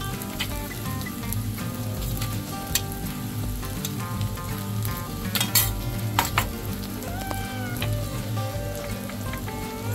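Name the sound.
stirring sabudana khichdi mixture in a pan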